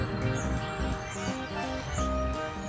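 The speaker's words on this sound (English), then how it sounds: "Now there's a flock of birds came by." A passing flock of birds chirps outdoors, with brief, regularly spaced high tweets sitting faintly above a loud, steady background rumble.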